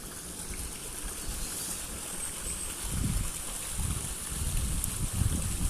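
A river runs with a waterfall on a rainy walk. The water gives a faint, steady rushing wash that swells slightly toward the end.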